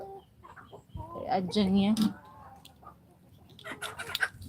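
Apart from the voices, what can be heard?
chicken clucking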